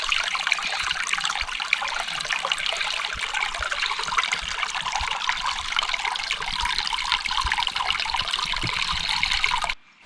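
Stream water trickles and babbles over shallow riffles in a nature preserve, making a continuous, close, gentle splashing that runs steadily before stopping abruptly.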